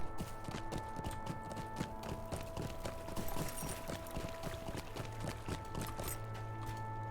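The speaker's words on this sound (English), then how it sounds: "So now we have to take another horse back" Horse hooves clip-clop steadily while riding in the Lord of the Rings Online game, an even trotting rhythm over a constant droning music bed at moderate volume.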